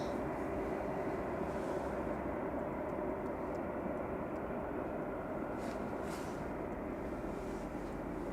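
A broad, steady roar of airliner jet engines spooling up at an airport, heard from a distance, holding constant without clear pauses.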